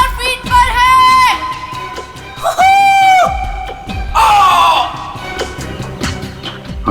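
A man screams over and over during a skydive at about 5000 feet, heard from a played-back recording: long, loud, strained yells broken by short gaps, with wind roar underneath.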